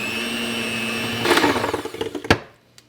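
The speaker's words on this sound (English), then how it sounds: "Now we're just going to take our hand mixer and mix it up." Electric hand mixer whipping solidified tallow body butter in a bowl: a steady whine for over a second, then louder, rougher churning as the beaters work through the fat, ending in a sharp knock and a brief final bump.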